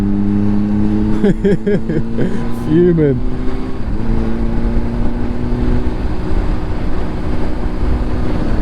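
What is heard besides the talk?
motorbike engine revving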